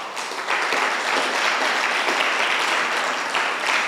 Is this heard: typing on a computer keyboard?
no